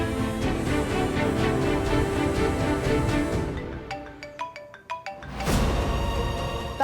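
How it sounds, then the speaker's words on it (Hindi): A mobile phone rings with an incoming call, a melodic ringtone of bright repeated tones that comes through under a louder musical backdrop before ringing out almost alone in short plucked notes. "आई का फोन आ रहा है"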